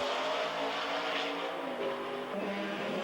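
Trans-Am race cars at the 1984 Trois Rivieres Grand Prix roar past with a steady loud engine drone, pitch sliding down as the cars pass.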